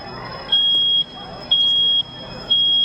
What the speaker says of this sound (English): as you heard, it sounds just like a smoke alarm